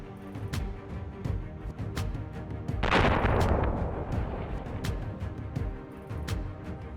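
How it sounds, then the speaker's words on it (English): A loud blast as an ammunition depot and truck explode bursts out mid-clip and its rumble slowly decays, amid scattered sharp cracks and booms of ongoing fire. "Even the truck carrying the ammunition didn't survive the explosion."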